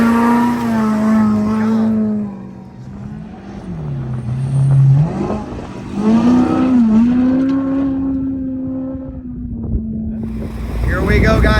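Brown's Motorsports race truck 4801, a desert off-road racer, revving loudly up close with a strong droning engine tone that rises and falls, heavy wind buffeting the microphone, and talk over the top.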